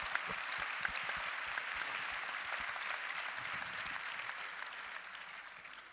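A full conference hall at a women's careers forum applauds steadily, a sustained, even wash of many hands clapping with a few sharper individual claps, fairly distant and fading slightly at the end.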